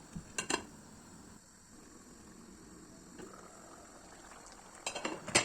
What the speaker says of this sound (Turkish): tekrardan üzerini kapakla örtüyorum ve bir 5 dakika boyunca daha kaynamaya bırakıyorum